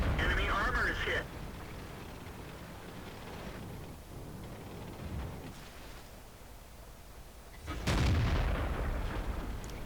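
A heavy tank cannon fires in a tank video game featuring the E-50, with a booming blast right at the start and another deep, loud report near the end, separated by low rumbling engine and battlefield noise.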